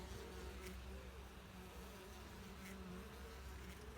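Honey bees hum at the entrance of a hive as they return carrying white pollen. A soft, continuous buzz is heard up close and fairly quiet, with a few individual bees droning past.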